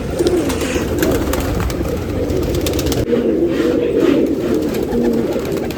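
Pigeons at a pigeon festival in Nashik, steady soft cooing from several birds nearby, continuous throughout with a faint engine rumble in the background.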